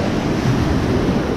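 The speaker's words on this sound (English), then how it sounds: "The waves are pretty big" Waves breaking on a beach, a dense continuous roar of surf mixed with wind buffeting the microphone, close and loud with no talk.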